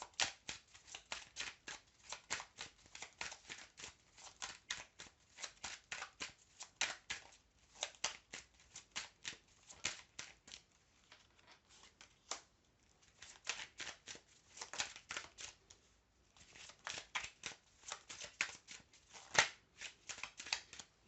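Oracle cards being shuffled for a tarot-style reading, a long run of rapid papery riffling bursts in quick rhythmic clusters with brief pauses between them, close and clear with no talking.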